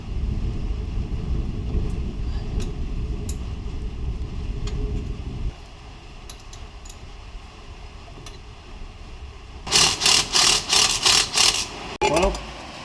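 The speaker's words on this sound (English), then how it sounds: "We'll kick things off by taking this front drive shaft out." Work on the front drive shaft of a squarebody Chevy truck, with steady low rumbling, then a rapid run of sharp metallic ratchet-like bursts near the end, followed by a brief clank.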